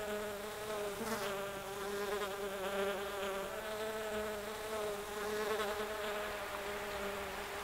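Steady droning buzz of a fly in the video game The Plan, close and continuous with a slightly wavering pitch and a faint tick early on, no voices over it.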